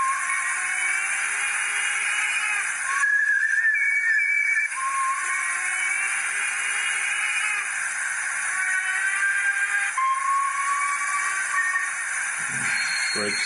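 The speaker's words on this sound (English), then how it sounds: "Whistles." Sound-decoder whistles from a model Turbomotive steam locomotive, several whistle tones repeating over a steady hiss of the model's running sounds, with a louder whistle burst near the start and faint clanks near the end.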